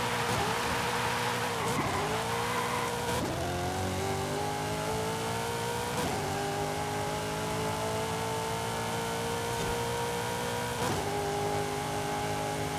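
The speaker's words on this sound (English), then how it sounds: "This V8 is raucous." V8 drag car in a racing video game screaming at top speed, a loud raucous engine note climbing steadily through several quick upshifts that each drop the pitch briefly before it rises again.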